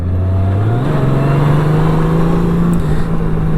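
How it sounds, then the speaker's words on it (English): A Honda GL1800 Goldwing's big six-cylinder boxer engine revs up close, a smooth loud drone that climbs in pitch, holds a steady high note, then eases slightly near the end. "something I love about the engine on this is the noise it makes"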